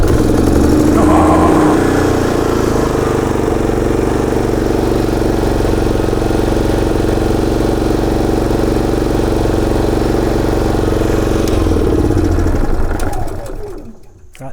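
A portable generator for off-grid use runs steadily after starting on its automatic start, a loud, close, continuous engine drone that holds even for most of the stretch before winding down at the end.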